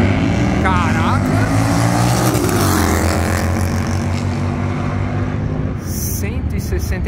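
A Harley-Davidson drag-racing motorcycle's loud engine roars and revs hard as it accelerates away in a wheelie, harmonics climbing steadily, with crowd noise and voices underneath.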